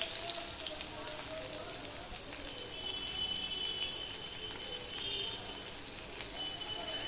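Sliced small onion dropped into hot oil for a Bengali singi fish curry, a soft continuous crackling sizzle that stays even and gentle throughout.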